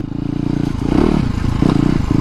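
A dual sport motorcycle is ridden on the road. Its engine drones loud and close with a rise in revs, and steady wind buffets throughout.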